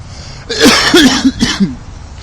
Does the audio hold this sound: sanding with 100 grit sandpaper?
no